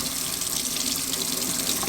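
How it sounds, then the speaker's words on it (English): Running tap water splashes steadily over cured smoked salmon in a sink, a continuous close hiss with no pauses. "You actually want to rinse this off."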